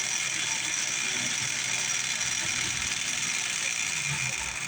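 A micro lathe's AC motor, driven through a HARMNEE AC voltage speed controller, runs at a raised speed, giving a steady close whine with a faint ratcheting, gear-like rattle throughout.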